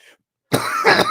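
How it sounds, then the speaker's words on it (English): A single harsh cough bursts out after a brief silence, loud and close, with a second rough push at the end. "Sorry if I'm coughing like crazy after that bowl"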